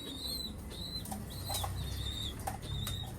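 Pigeons flap their wings inside breeding cages at a loft, giving repeated close flurries of feathery beats, with soft chirps and coos scattered throughout and no talking.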